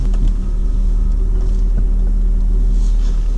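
A LADA Niva's engine runs as the car is repositioned, giving a loud, steady, close low rumble with a few faint knocks over three seconds and no voices.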